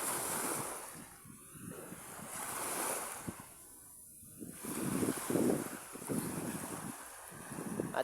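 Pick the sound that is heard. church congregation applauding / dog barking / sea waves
sea waves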